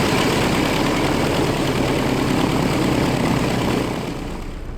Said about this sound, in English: now just enjoy the beautiful sound of those right engine.